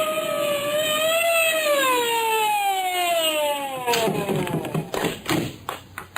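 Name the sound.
police siren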